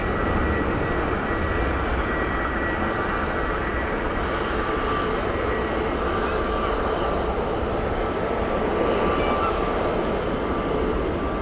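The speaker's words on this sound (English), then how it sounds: "Latam is coming in here, folks, and that is our final for the flight." A LATAM airliner on final approach into Heathrow Airport makes a steady, loud, broadband engine roar that holds evenly throughout without fading, with no talk over it.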